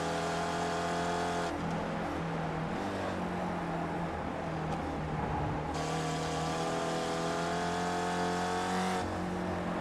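Race car engines drone steadily on the Charlotte Motor Speedway oval in iRacing, with a sustained high revving whine that swells and shifts pitch as cars pass close by, loud throughout.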